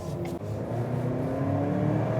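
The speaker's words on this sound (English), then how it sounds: "So that's what 300 horsepower and 310 pounds-foot of torque feels like." A 2020 Ford Explorer XLT with the 2.3-liter EcoBoost engine accelerates, a rising engine whir building steadily in pitch and loudness from inside the cabin, with no voices.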